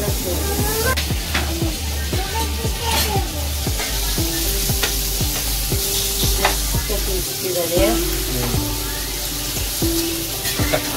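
White snapper fish frying in hot oil, a loud continuous sizzle close by with scraping and stirring strokes, while a voice talks over it.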